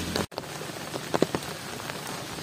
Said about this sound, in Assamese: তাতে ইমান বৰষুণ দি আছে।